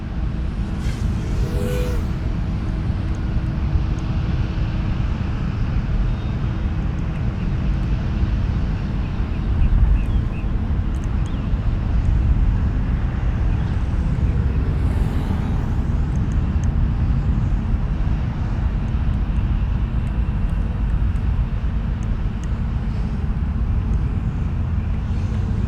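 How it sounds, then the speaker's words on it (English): A small Babytooth FPV quadcopter drone flies outdoors near construction work, giving a steady, low whirring hum that continues evenly throughout with faint background activity. "You can probably hear the construction noise over the noise of the quad."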